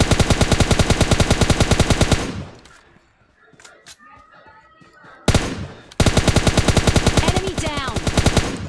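Rapid automatic gunfire from an M64 rifle in a shooter video game, loud sustained bursts with a pause mid-clip filled by quieter game effects, then another long burst.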